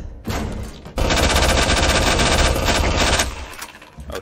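Loud, rapid automatic gunfire from the video game Resident Evil 2 Remake rattles in a sustained burst after a few short opening shots, then trails off near the end, with no voices over it.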